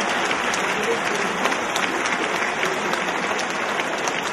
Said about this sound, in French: Allez-y sur les applaudissements